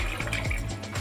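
Water pours steadily into a pot of vegetable kurma, a close, continuous splashing gush with faint bubbling and no voices.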